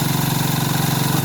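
A Harbor Freight 1000W generator engine turns over with the ignition off, giving a steady, loud mechanical churning and rumble with a fast even pulse throughout.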